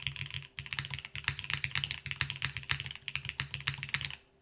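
Close, rapid typing on a Malvix Moonlight keyboard fitted with PBT keycaps: a quick run of crisp keystrokes in an uneven rhythm that stops abruptly at the end.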